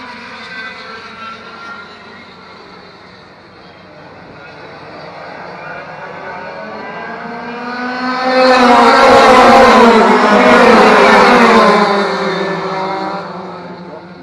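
Retro racing karts in a Formula C championship round at Wigan Club Circuit, engines droning steadily, then swelling loud and close as the pack passes before easing away, with voices talking over the noise.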